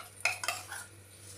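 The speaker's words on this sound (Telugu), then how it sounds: "ఇప్పుడు ఒక కడాయి లాంటిది ప్యాన్ పెట్టుకోవాలి." A metal kadai pan is set down on a stove with a few sharp clanks and scrapes of a utensil, close and brief, in a quiet kitchen.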